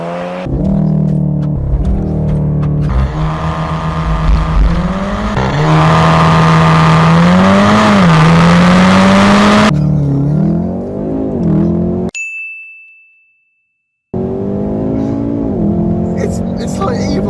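A VW Golf R engine revs loudly in launch control, its pitch climbing and dipping repeatedly, then cuts out briefly before the roar returns.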